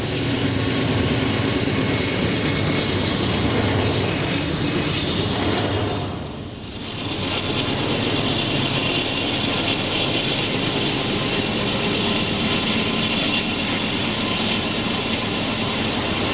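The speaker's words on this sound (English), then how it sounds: "intermodal train 25K coming out of Allegheny Tunnel in Gallitzin and heading west to Cicero, Illinois" A Norfolk Southern intermodal freight train, 25K, rumbles out of the Allegheny Tunnel at Gallitzin, Pennsylvania, heading west. A loud, steady roar of locomotive engines and rolling cars continues throughout, briefly dipping midway before returning to full strength.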